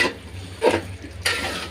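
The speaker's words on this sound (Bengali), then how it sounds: "2-3 মিনিট এভাবে মশলার সাথে কষিয়ে নেব" Vegetables and beans are stirred with spices in a hot pan for a vegetable khichuri, with two scraping stirs over a steady low sizzle and no talking.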